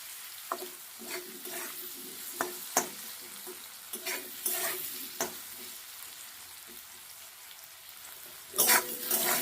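Potatoes fry in a pan with turmeric and salt, giving a steady sizzle broken by sharp scraping and clacking strokes of a spatula stirring, with a louder burst of frying near the end.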